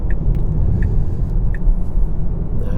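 A Tesla Model Y slowly driving and turning around on an Icelandic road, with steady low road rumble and engine-free motor hum throughout, plus a few faint high chirps.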